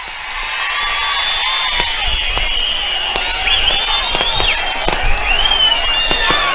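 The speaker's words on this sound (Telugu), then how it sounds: "మేము సిద్ధమని గట్టిగా చప్పట్లు కొట్టండి మరొకసారి" Crowd clapping loudly at a political public meeting in Pileru, a steady dense wash of applause and cheering with sharp pops, carrying on for several seconds without a break.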